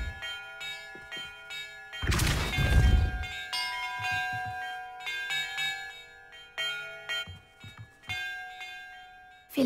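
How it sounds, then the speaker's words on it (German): Bells ringing in the video game Hogwarts Legacy, a loud deep clang followed by a series of lingering metallic tones and softer strikes that ring out over about ten seconds, with no talk. "in welcher Reihenfolge ich die Glocken läuten muss"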